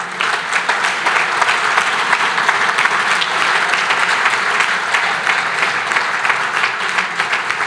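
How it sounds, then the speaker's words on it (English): An awards gala audience applauds steadily and loudly, a dense wash of clapping lasting throughout with no pauses and no talk over it. "Please do me a favor and really give yourselves a round of applause."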